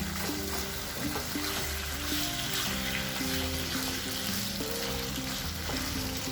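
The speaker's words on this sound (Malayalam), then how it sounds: "അതിലാദ്യം ചെമ്മീൻ ചേർക്കാം. ചെമ്മീനൊന്ന് വെള്ളം വറ്റിച്ചെടുക്കണം എണ്ണയിൽ." Prawns fry in hot oil in a pan for a Kerala prawn and egg curry. A continuous close sizzle carries light stirring scrapes, with a faint tonal background underneath.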